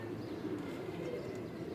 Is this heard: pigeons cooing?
yes